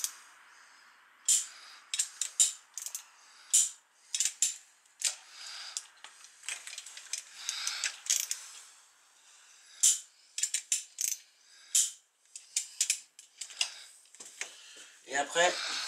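A torque wrench ratchets in short, repeated bursts of clicking while tightening an injector on a Ford Fiesta 1.4 TDCi, pausing between strokes, while someone speaks quietly in the background.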